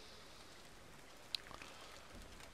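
Soft, steady rain hiss in the video game Farmer's Dynasty fills the background, with one sharp click partway through and faint drips; no talking.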